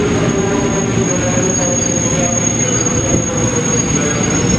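A train rumbles loudly nearby with a high, steady squeal from its wheels as it slows to stop at Jatinegara station.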